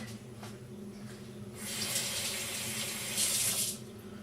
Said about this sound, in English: Well, you can start washing this radish.